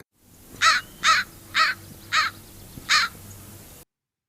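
An American crow gives five harsh caws in a steady, evenly spaced series, loud and fairly close, over a quiet low background hum.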